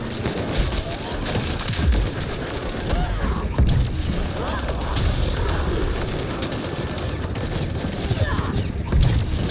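Dense gunfire in Mass Effect: Andromeda, rapid bursts of shots and booms layered with mechanical clatter, loud and continuous throughout a combat scene.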